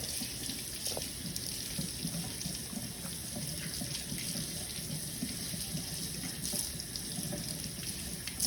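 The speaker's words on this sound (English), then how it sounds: "wash my hands" Tap water runs continuously into a kitchen sink while hands are washed under it, a steady soft splashing hiss with no talk.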